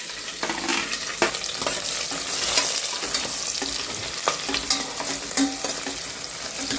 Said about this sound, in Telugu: ఆనియన్స్ ఎంత బాగా ఫ్రై అయితే టేస్ట్ అంత బాగుంటుంది.